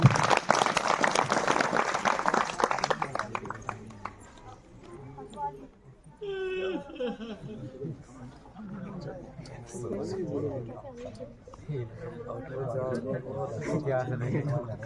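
A crowd claps loudly for a few seconds at a farewell ceremony in Bharetidhar, the applause fading out before voices and chatter take over.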